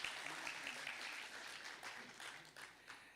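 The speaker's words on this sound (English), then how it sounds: "Please give a round of applause for their performance" An audience at an international conference applauds a student performance, a fairly faint, steady spread of many hands clapping that holds for a few seconds, heard from a distance, with some voices faintly underneath.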